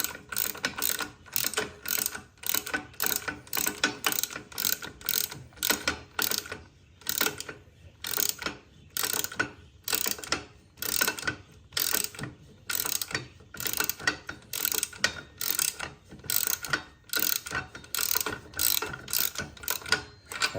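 Rapid bursts of ratchet wrench clicking repeat steadily throughout while bolts are tightened on a Baja frame, close and loud, each run of clicks separated by brief pauses, with no talking.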